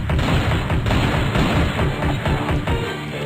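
Continuous gunfire rattles in the action video game Strike Force Heroes 2, a dense barrage of rapid shots and booms, loud and steady throughout.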